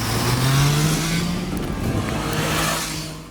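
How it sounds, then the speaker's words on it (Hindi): A Triumph Trident 660 triple-cylinder motorcycle rumbles close by, its exhaust note rising in a rev and then holding steady and loud for a few seconds. "इसकी आवाज़ एक टिपिकल ट्रायम्फ ट्रिपल इंजन की तरह है"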